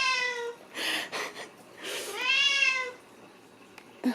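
A house cat named Poki meows repeatedly in a series of clear, close, drawn-out calls with short pauses between them, loud and alone, followed by a brief soft noise at the end.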